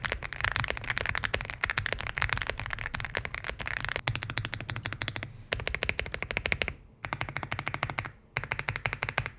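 Rapid continuous typing on an Aula F75 mechanical keyboard with Leobog Reaper switches, dense rattling clicks with a few brief pauses, close and clear with no talking.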